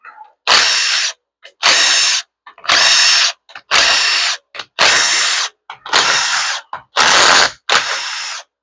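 Pneumatic impact tool or ratchet unbolting the accumulator valve body of a Ford 4R100 transmission, eight sharp loud bursts of rattling whir in a fairly steady rhythm with brief silences between, close up and no talking.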